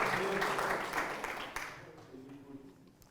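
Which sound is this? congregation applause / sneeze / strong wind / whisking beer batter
congregation applause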